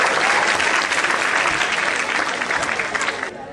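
An audience at an NGO event gives loud, sustained applause to welcome a guest, dense clapping from many people that holds steady and then eases off abruptly at the end.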